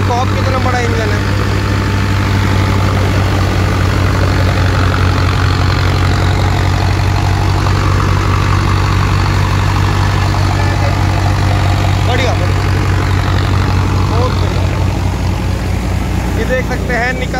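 A large Nova combine harvester engine runs steadily at close range in a farm field during harvest, a loud continuous low drone with mechanical clatter throughout.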